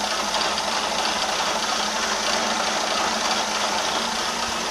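A milling machine cuts with a two-flute 20 mm end mill running at 800 RPM, producing a loud, dense, continuous grinding whir that stays steady from start to finish with no speech.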